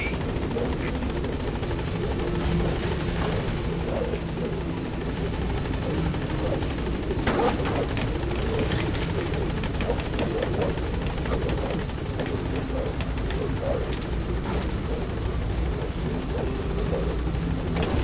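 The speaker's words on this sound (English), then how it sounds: "This is B-Quad. Arriving shortly at LZ." Helicopter arriving at a landing zone in Metal Gear Solid V: The Phantom Pain. A continuous loud rotor thrum and engine whine fill the whole stretch, with radio-style voice chatter over it.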